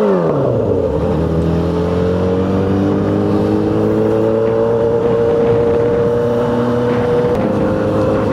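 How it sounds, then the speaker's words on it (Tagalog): A car engine revs and drones loudly and continuously while the tires are warmed up on the road, its pitch falling sharply at first and then holding steady as a close, even roar. "At nagpapainit pa lang tayo ng gulong."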